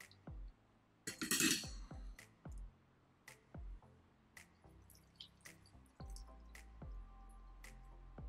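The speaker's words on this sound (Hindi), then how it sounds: "और पनीर को अब हमें छान लेना चाहिए, तो कोई भी सूती कपड़े का आप इस्तेमाल कर सकते हैं पनीर को छानने के लिए।" Water drips and squishes as fresh paneer (chhena) is strained through a cotton cloth in a home kitchen, a series of sharp close drops and soft wet squelches with one louder splashy burst early on.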